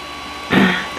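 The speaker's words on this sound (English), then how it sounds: "and the printer is going." A 3D printer running as it lays down its first lines, a steady mechanical whir under a broad hum that briefly swells louder for a moment before settling back.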